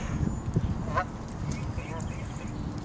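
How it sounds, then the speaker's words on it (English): Ducks quacking at Burnaby Lake, several short nasal calls scattered through the clip over outdoor background noise, with a voice talking to the birds over them. "Hello there, Mr. and Mrs. Duck."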